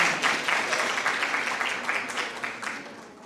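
An audience at a health conference session on diabetes breaks into loud, sustained applause, a thick crowd of clapping hands that holds strong before slowly tapering off.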